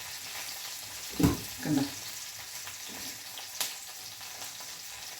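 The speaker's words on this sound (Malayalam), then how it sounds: "കറിവേപ്പിലയൊക്കെ ഒന്ന് മൂക്കട്ടെ" Curry leaves fry in hot oil in a pan, giving a quiet, steady sizzle with a few louder bursts of crackle. A brief voice is heard.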